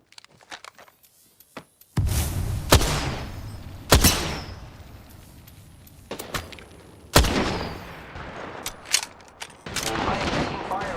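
Video game gunfire from an Apex Legends ranked arena match, with several loud bursts and single shots breaking through quieter stretches, under a soft game backdrop.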